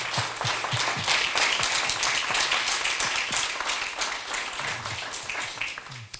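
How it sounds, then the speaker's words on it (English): An audience at a university lecture on mission-based innovation breaks into sustained applause, a dense wash of clapping from many hands that swells and slowly tapers over several seconds. "So please join me in thanking and applauding my friend, Robert Hampshire."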